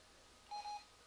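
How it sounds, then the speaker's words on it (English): An EnGenius FreeStyle2 cordless phone sitting on its charging cradle gives two short, faint electronic beeps in quick succession against a quiet background. "it's beeping at me"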